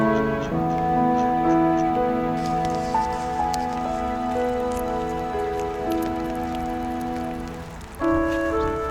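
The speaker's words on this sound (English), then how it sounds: "I guess the rain isn't gonna stop, huh?" Steady rain falls outdoors as a continuous, fairly close hiss of drops, heard under sustained tonal background music.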